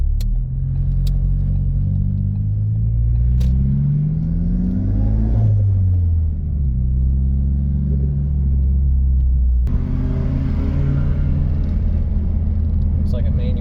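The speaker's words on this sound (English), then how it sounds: "First gear, letting the clutch out." A manual car pulls away in first gear on a road as the clutch is let out, its engine note rising in a steady rumbling rev, then dropping and climbing again for a shift, loud and close throughout.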